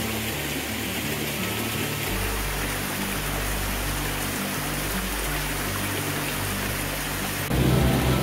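Water pours in a rushing, continuous broadband wash at a waterfall in a Hawaiian rain forest, steady and fairly close, with a low rumble swelling near the end and no talking.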